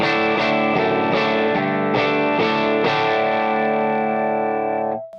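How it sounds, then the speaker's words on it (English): Electric guitar strummed lightly through chorus and distortion effects, shimmering chords with a soft attack that ring out and fade at the end. "Now watch what happens when I don't aggressively hit the guitar."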